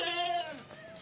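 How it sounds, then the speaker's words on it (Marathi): A goat on a farm gives a single wavering bleat up close, about a second long, with a faint voice in the background. "बकली आली बाहेर, बकली आली."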